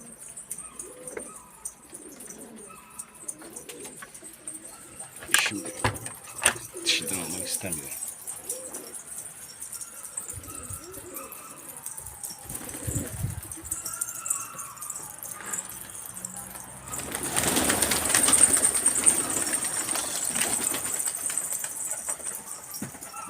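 Black-silver breed pigeons coo softly in a loft, with bursts of wing flapping and rustling, then a louder stretch of flapping near the end; someone speaks at times.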